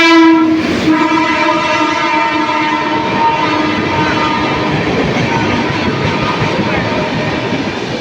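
A passenger train on the Bandel line passes close by a station platform, opening with a loud horn blast and then a steady heavy roar of wheels and carriages rolling past for several seconds.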